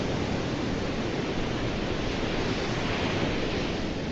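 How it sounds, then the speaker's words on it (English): Ocean waves played from a browser video source produce a steady, unbroken wash of surf noise, fairly loud and constant throughout, with no voices. "and it's just the ocean"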